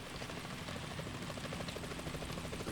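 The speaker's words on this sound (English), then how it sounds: "Chopper." Chopper rotor drone in Metal Gear Solid 2: a steady, continuous throbbing thrum with fine rapid beating, moderately loud and unbroken throughout, with no voices.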